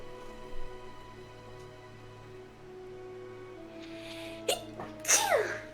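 A single sharp sneeze bursts out near the end, close and loud, after a quieter stretch of room tone with a steady hum and a faint sharp intake just before it.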